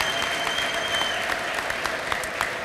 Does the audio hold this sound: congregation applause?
yes